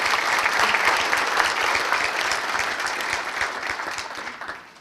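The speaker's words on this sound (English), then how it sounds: "So I think it's a round of applause for the finance department and their efforts." A crowd applauding the city finance department at a State of the City address, steady loud clapping from many people that holds evenly and then fades out near the end.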